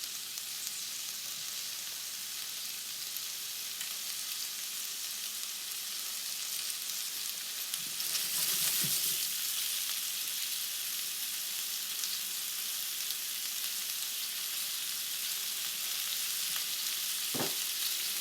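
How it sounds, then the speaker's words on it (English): Pork, rice and red peppers sizzle and fry steadily in a hot pan, a continuous loud crackling hiss with a brief stirring clatter partway through and no talking. "Let that come back up to heat. Get a nice sizzle."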